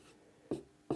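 Pen or chalk writing by hand during a maths lesson gives two quick, sharp scratchy strokes after a near-silent start, close and fairly faint.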